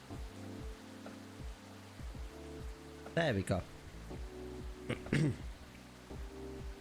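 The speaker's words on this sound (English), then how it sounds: "Oh damn, no, it's really raining out there." Soft, steady rain ambience patters in the café game Coffee Talk, sitting quietly under a short spoken remark and other gentle background sound.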